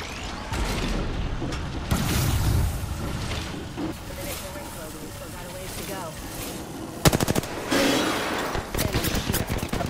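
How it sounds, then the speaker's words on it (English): Gunfire in the Apex Legends battle royale, with bursts of shots rattling through a dense, busy mix and a sharp cluster of rapid cracks near the end, set under ongoing game sounds and voices. "Shots fired!"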